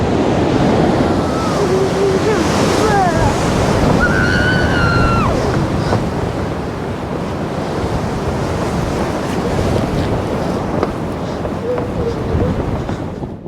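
A waterfall at Torres del Paine in Chile roars steadily, its broad rushing noise constant throughout, with gusts of wind, a few bird chirps early on and voices faintly in the background.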